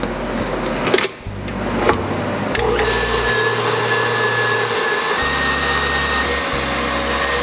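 A stand mixer whips egg whites with cream of tartar, giving a loud, steady motor whir with a changing low hum and a beater rattle. It runs alone, with no talking.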